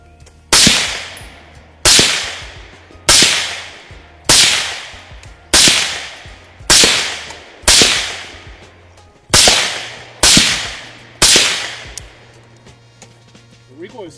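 Suppressed Mark 11 rifle in .308/7.62 with a 12.5-inch barrel and Kryptos suppressor, firing about eleven sharp cracks at a steady pace of roughly one per second, each decaying quickly, with a low hum between shots.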